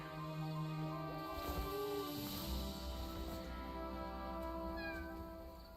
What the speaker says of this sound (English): It's a kitty again.